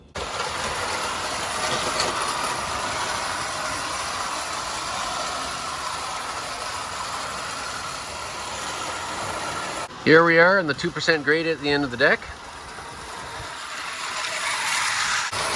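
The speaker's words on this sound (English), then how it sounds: "These are rather pretty little old vintage rail cars. I love them. I love the sound of them, the tin plate." Vintage American Flyer tinplate toy rail cars run along a track with a steady metallic rolling rumble, while someone talks over it partway through.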